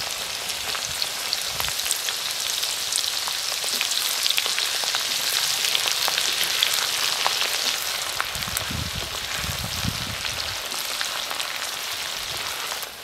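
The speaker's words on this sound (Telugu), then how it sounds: "అల్లం వెల్లుల్లిపాయ పేస్ట్ కాడ వేయించుకుంటున్నాను" Ginger-garlic paste frying in a pan for chicken pickle, a continuous moderate sizzle with scattered spattering pops and a few low stirring scrapes, no voices.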